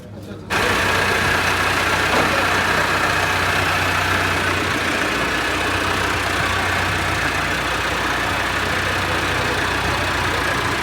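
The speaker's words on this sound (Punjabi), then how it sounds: "100 HP ਟਰੈਕਟਰ ਹੈ" A 100 HP tractor engine idles steadily and loudly after a brief quiet start, a continuous low rumble with a droning mechanical hum throughout.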